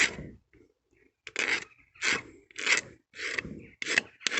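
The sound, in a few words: blade scraping varnish off car wood veneer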